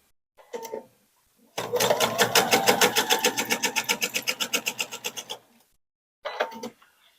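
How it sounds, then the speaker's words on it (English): A sewing machine stitches a quilted coffee cup table topper in one sustained run of rapid, evenly spaced needle strokes, framed by short bursts of handling noise before and after, with no talking. "so I can sew this in place right along that line I just folded on"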